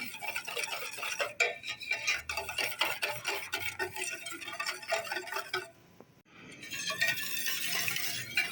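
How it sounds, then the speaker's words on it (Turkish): Semolina dessert is stirred in a pot on low heat: close, continuous scraping strokes of a spoon against the pot, with a brief pause before the stirring resumes. "Böyle kısık ayarda arkadaşlar karıştırıyoruz."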